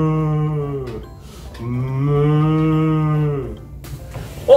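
A cow and calf moo in a field, with two long, loud, tonal moos and a brief lower call at the end.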